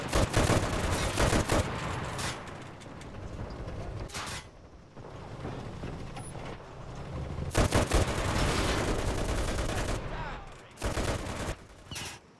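Sustained gunfire in the video game Enlisted, heavy overlapping volleys of rifle and automatic fire in repeated waves with brief lulls, loud and close amid a busy battle.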